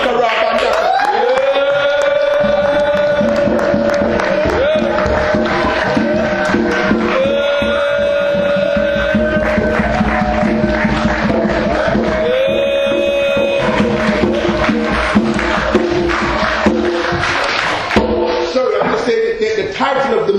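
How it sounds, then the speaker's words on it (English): A large crowd at a Malcolm X Day gathering cheers, whoops and claps loudly and continuously, with dense stamping and shuffling underneath and voices rising throughout. "I want us to clap our hands, stamp our feet, and make some noise for the fight for ShakaRa Bandaka"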